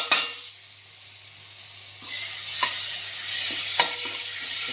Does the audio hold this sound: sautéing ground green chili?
yes